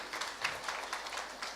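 Audience applause at a book launch in Nairobi: a steady wash of clapping from a crowd, fairly faint and distant, holding evenly for a short stretch with no voices over it.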